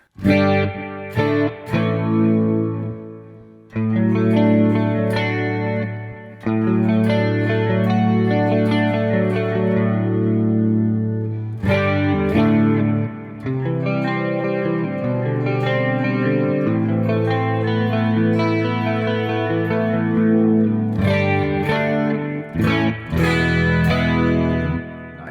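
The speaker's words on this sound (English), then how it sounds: "That's spring reverb." Electric guitar playing sustained chords through a Sonicake Pocket Master's spring reverb, with a wet, springy reverb tail that lingers and blooms after each strum.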